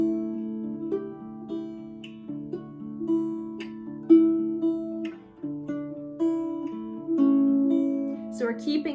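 An octave mandolin plays the melody of a song solo, with plucked notes ringing over a moving bass line in a steady, gentle rhythm, close and clear throughout.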